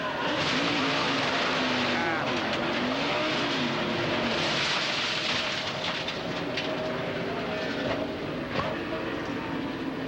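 Onboard a NASCAR Winston Cup race car in 2003 as it crashes, a loud, continuous engine roar with scraping and impact noise fills the whole span, with radio-like voices mixed underneath.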